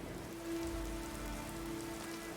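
Steady rain falls in the game Skyrim, a dense, even hiss of drops pattering on surfaces, swelling slightly at times, with a faint sustained tone running beneath it.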